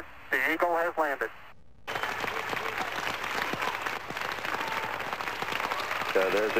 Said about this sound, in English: So there's a cheer in this room.